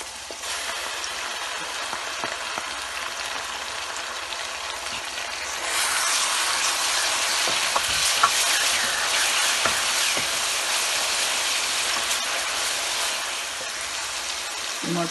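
Garlic ginger paste hits frying onions in oil for a dhaba-style handi chicken, and a moderate sizzle swells louder midway and stays steady, with scattered scraping and stirring clicks.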